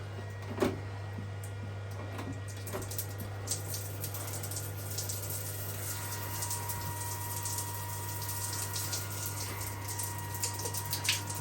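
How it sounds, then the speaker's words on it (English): Hot water runs from a tap in a steady, continuous hiss over a constant low mechanical hum, with a few faint knocks and clicks along the way. "I'm getting hot water there, you'd assume you're getting hot water here"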